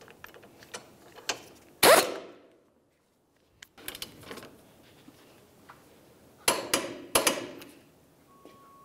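Ratchet and wrench work on a lower ball joint nut of a 2010-2013 Ford Transit Connect, with sharp metallic clanks and short bursts of clicking separated by quiet gaps, close up and with no speech.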